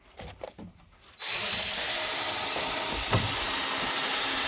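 Power drill driving screws into pallet wood, starting after a second of light handling noise and then whirring continuously and loudly at close range with a steady, gritty hum.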